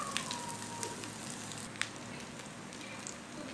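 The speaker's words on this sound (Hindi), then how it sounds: "इनको हम 2 से 3 मिनट के लिए फ्राई करेंगे।" Shami kababs frying in a pan of hot oil, a steady soft sizzle with scattered light crackles and pops throughout.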